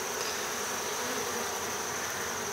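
Honey bees at a queenless hive in late September drone in a steady, dense buzz, loud and close throughout with no pauses and no voices.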